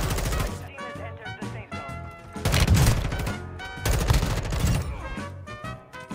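Gunfire in Call of Duty Warzone 2.0, rapid automatic bursts, loud and close, in two or three volleys with short gaps between them.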